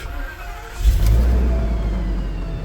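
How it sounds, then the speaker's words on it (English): A Ford F-550 truck engine cranks and catches near the one-second mark, then settles into a loud, steady low idle rumble close by, with no talking over it. "Car starts right up."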